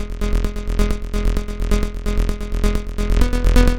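A raw, unprocessed techno bass line from a synth pulses in a fast, steady rhythm. The notes are loud and dry, with no effects, and play alone.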